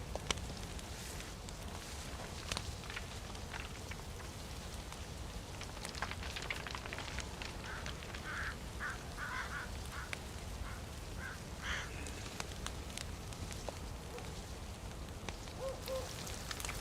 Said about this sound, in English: Keep thinking when I hear that duck, it's open making those noises on Discord